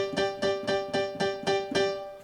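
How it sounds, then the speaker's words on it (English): Rock and roll piano in G plays steady repeated chords in an even eighth-note pulse, about ten close, bright strikes over two seconds with no voices. "Eighth notes are twice as fast as quarter notes, and they're going to sound like this."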